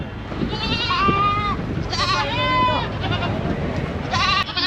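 Goats bleat repeatedly at a livestock market in Kerala, with several loud, wavering calls in bursts, one after another close by, over market background noise.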